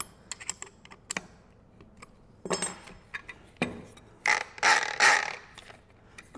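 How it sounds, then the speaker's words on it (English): An included wrench tightens the disc on a Milwaukee M18 Fuel 3672 angle grinder, giving a few sharp metallic clicks and clacks close by, followed by a louder burst of rattling handling noise. "Use our wrench, our included wrench,"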